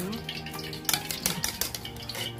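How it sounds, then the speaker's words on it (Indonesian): Eggs being beaten in a bowl with salt before frying for egg fried rice, giving a quick run of sharp clinks and taps from utensil on bowl, fairly close and alone, with no talk over it. "Setelah itu kita kocok sebelum digoreng."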